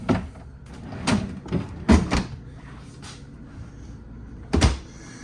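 The two pull-out freezer drawers of a 2023 Riverstone Reserve 3670RL RV open and close in several separate thumps and slides with pauses between them, heard up close with no talking.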